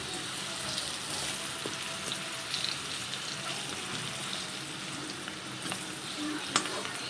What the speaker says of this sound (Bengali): আলুগুলো লাল লাল করে ভেজে নিলাম।